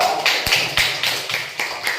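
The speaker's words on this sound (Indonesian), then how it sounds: "Kasih tepuk tangan dulu dong" A classroom audience gives scattered, uneven claps for a presenting group, with a handful of sharp, close hand strikes spread over two seconds rather than a full ovation.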